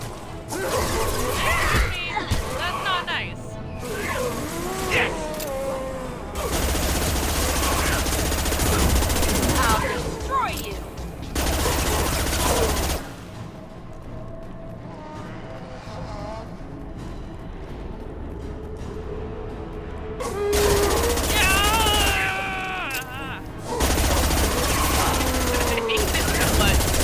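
Bursts of automatic gunfire in Mass Effect 2 come in rapid volleys separated by quieter gaps. Voices speak between and over the shooting.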